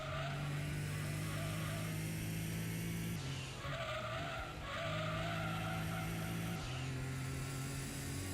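A Toyota Supra skids through a racing video game, its tires squealing steadily over a droning engine. The slide runs almost continuously, with brief breaks where the squeal cuts out and resumes.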